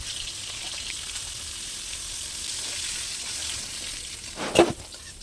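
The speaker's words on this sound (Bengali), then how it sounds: "কড়ার মধ্যে তেল দিয়ে তেলটা গরম হয়ে গেলে মাছগুলোকে মিডিয়াম করে ভেজে তুলে নিলাম।" Fish fry in hot oil in a wok, a steady, dense sizzle that lasts throughout with no talk, and a brief louder clatter of stirring near the end.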